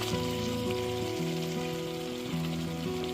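Fried potatoes and pointed gourd tipped into hot, oil-released spice paste for a prawn potol curry, giving a steady close sizzle and frying crackle with low humming tones underneath throughout.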